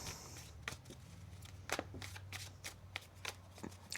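Tarot cards shuffled by hand at a quiet level, a run of crisp papery flicks and slaps in an uneven rhythm, with no talking.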